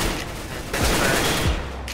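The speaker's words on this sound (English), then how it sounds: "Shoots through the wall." Gunshots fired through a wall in CS:GO, a rapid burst of loud, close automatic fire with dense overlapping reports and no gaps.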